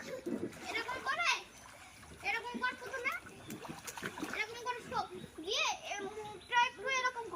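A child splashes while swimming, with irregular close splashes under almost constant chatter from a child and adults.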